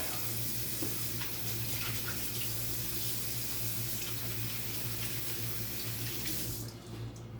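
A kitchen tap runs steadily into a sink while dishes are washed during chocolate cherry cake baking, a constant close splashing stream that tapers off at the very end.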